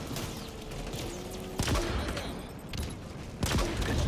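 Laser gun fired in a multiplayer shooter video game, heard as a sustained burst of rapid weapon fire with two sharp louder blasts partway through, loud and close, with no talking.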